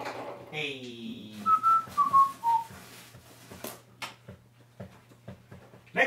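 A person whistles a short, wavering melody of a few notes, over a low steady hum with soft background noises and faint voices.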